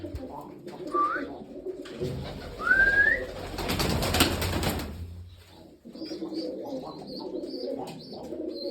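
White-tailed pigeons coo in soft, repeated calls with a few chirps, and a burst of wing-flapping rushes through the middle while someone talks quietly nearby.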